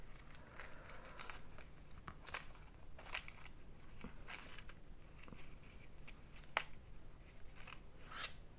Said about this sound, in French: Donc je vais un peu le couper.